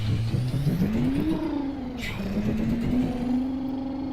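Kenworth W900 truck engine in an SCS Software trucking game, a steady mid-pitched drone whose tone rises and then settles as it revs slightly, heard close and alone.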